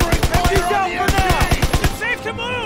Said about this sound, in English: We gotta suppress the machine gun!